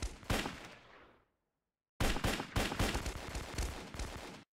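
Rapid bursts of gunfire from the video game Kuboom, loud and close, with a short silent gap before the volleys resume in a dense, repeated stream of shots.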